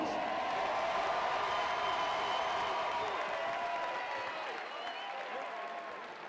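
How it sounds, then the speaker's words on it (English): Steady crowd applause and cheering at an MMA fight event in Pensacola for two young fighters after an exhibition sparring match, loud and continuous throughout, easing slightly toward the end. "Give them a big round of applause."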